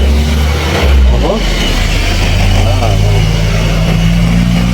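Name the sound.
various vehicles passing on a farm road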